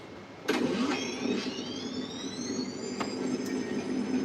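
A Ghostbusters proton pack replica powers on with a sharp click, then rising whining electronic tones that climb steadily over a steady hum and air-conditioning background, with a couple of brief clicks later.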